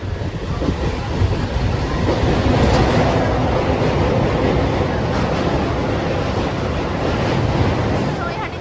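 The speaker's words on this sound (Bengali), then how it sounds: "এই যে এই ট্রেনটা করে এসেছিলাম।" A ladies special passenger train runs along the rails with a steady, loud, unbroken roar and rumble that holds for the full stretch, with no talk over it.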